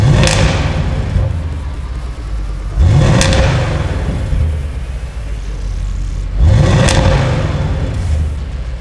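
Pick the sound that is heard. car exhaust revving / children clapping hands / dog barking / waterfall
car exhaust revving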